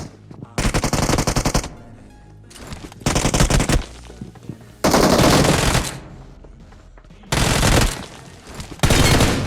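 Automatic rifle fire rings out in the mobile shooter PUBG Mobile, played on an emulator. Loud, close bursts of rapid shots last a second or so each and are separated by short quieter gaps.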